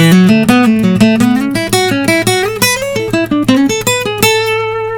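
An electric lead guitar plays a fast lick across the fretboard, a rapid run of distinct picked notes climbing and falling, loud and close with no talking.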